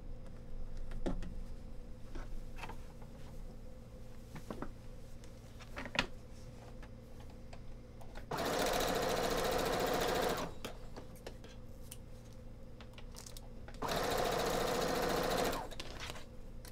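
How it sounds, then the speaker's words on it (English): A sewing machine runs in two bursts of steady stitching, each about two seconds long, separated by quieter handling noises from working on a light mage costume. "Now I am going to sew this one right away because I want to free that last one so I can do the entire pass all together."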